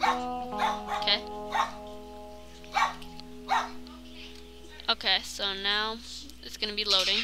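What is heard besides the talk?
dog barking loudly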